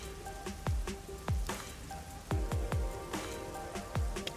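Rain in a neon-lit city district, a steady patter of drops with several distinct descending water plinks and drips repeating irregularly over the whole stretch, moderately loud with no talk.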